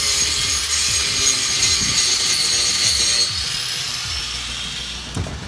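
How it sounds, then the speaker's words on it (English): An angle grinder cuts bolts out of school bus seats from the inside, a loud continuous high-pitched grinding whine with scraping and clunks, close by. "what we ended up having to do is grind all of the bolts out from the inside"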